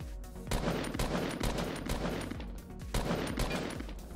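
Rapid bursts of automatic gunfire from Fortnite Battle Royale gameplay, with repeated sharp volleys stacked close together across the whole stretch, loud and without talk.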